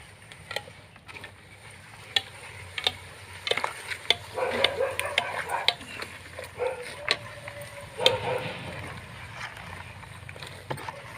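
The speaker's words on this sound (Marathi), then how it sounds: "आणि परत एकदा खाली वर करून फिरवून देत आहे।" A liquid fertilizer mixture with finely ground dung is stirred by hand, turned up and down, making irregular sloshing and scraping splashes that swell and fade over several seconds, close and fairly quiet.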